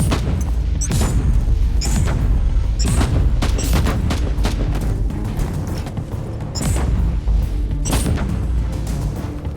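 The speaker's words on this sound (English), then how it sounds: "Let's go ahead and switch to the plasma gun here and see what we can do with this." A plasma gun fires repeatedly in Inquisitor Martyr, loud booming energy blasts arriving in quick bursts one after another, mixed with in-game explosions and effects and no talking.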